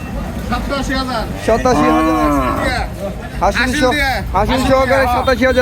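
Loud, drawn-out moos from a black cow up close amid the busy murmur and chatter of the crowded Joypara cattle market in Bangladesh.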